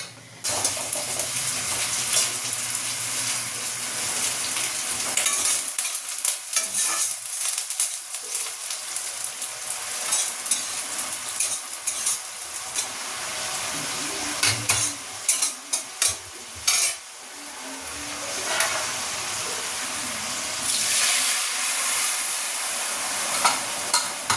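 Hot oil sizzling and crackling in a wok as food is stirred, a loud continuous frying hiss with bursts of spatter and occasional scraping, close by.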